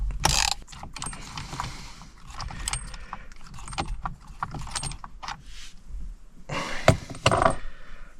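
Metal clinks, rattles and ratcheting from loosening the steering wheel bolt on a Ford Fiesta, close up in irregular bursts with a few sharper knocks, and no talking.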